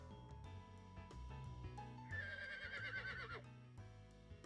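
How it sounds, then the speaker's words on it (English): A horse whinnies in a town street scene from a visual novel, one loud drawn-out neigh over a busy music and ambience bed, lasting roughly two seconds. "I hear a horse neigh."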